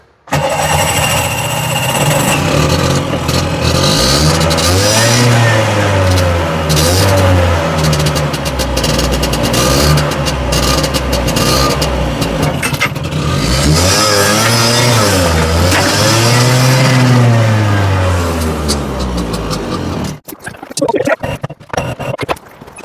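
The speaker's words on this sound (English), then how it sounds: "Let's try again. Engine on." A small tuk-tuk engine with badly unbalanced carburettors putters loudly and unevenly, revving up and down in waves, then cuts out near the end.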